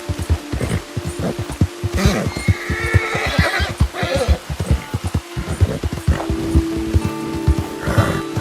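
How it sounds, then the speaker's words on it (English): In the Red Dead Redemption game, wild horses in New Austin let out loud, shrill neighs and whinnies. Hooves clip-clop among them and a windy outdoor ambience runs underneath, with no talking. "So many wild horses in New Austin."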